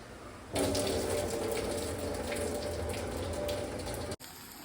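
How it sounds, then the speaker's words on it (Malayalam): Water drained from cooked noodles gushes out in a continuous rushing pour for about four seconds, then cuts off abruptly. "ഈ വെള്ളം മൊത്തം ഊറ്റിക്കളയണം"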